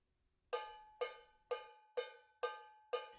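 An old tomato sauce can is struck on its top six times at an even pace, each hit a bright, ringing metallic clang that decays quickly, close and clear with nothing else audible.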